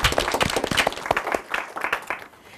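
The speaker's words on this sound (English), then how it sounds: "Big round of applause for yourself" Audience at an elementary school derby match claps in a lively, uneven burst of individual hand claps, moderately close and fading toward the end.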